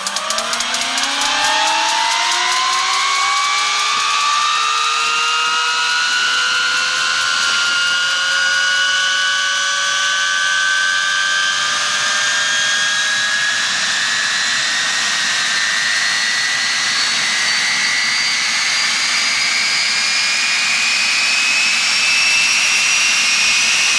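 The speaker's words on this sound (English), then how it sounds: "I go out and get a turbine, a helicopter turbine" A UH-1 Huey helicopter's turbine engine spools up and runs, a loud rising whine that climbs steadily, then holds as a sustained high-pitched scream with a jet-like roar for the whole stretch.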